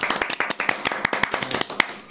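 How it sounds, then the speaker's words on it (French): Small group clapping in a podcast studio for an arm-wrestling episode, a short burst of close, uneven sharp claps with a faint voice underneath. "On peut tous applaudir."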